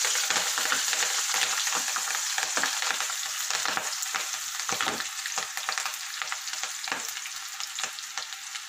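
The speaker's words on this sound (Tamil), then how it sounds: "இப்போ இது எல்லாமே அந்த பச்சை இது போகிறது வரைக்கும் நல்லா பொரியணும்" Chopped green chillies and curry leaves fry in hot oil for an anchovy fish pickle, giving a steady, crackling sizzle with scattered pops and stirring scrapes, close and continuous with no voices.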